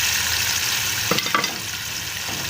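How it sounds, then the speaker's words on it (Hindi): Onion paste hits a cup of hot ghee in a kadai and fries with a steady sizzle, while a few sharp stirring scrapes and clinks stand out near the middle. "अभी इसमें प्याज का जो हमने पेस्ट तैयार किया है ये इसमें डाल देंगे"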